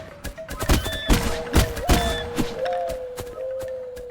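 Sword strikes landing on basic skeleton enemies in the dark fantasy first-person shooter Mohrta, a rapid run of sharp, punchy thuds and clanks over a steady game soundscape with brief rising tonal effects.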